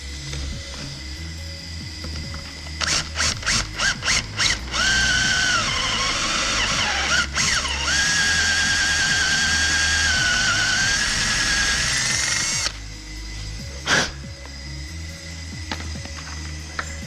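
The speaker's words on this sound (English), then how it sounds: "so we had to buff the bumper bolts off it" A power tool whines and buffs at the bumper bolts on a Skoda Fabia, starting with short bursts and then running in a sustained loud grinding with a rising pitch before it cuts off.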